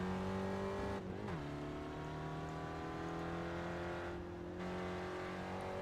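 A Spec Racer Ford race car on track approaching the Redmond hairpin at Okayama, its engine note dropping sharply through downshifts twice, then holding a steady harmonic drone, heard from a distance at low level.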